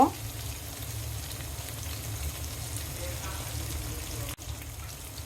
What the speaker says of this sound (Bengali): এই যে টমেটো আমি একটু ভেজে নিব।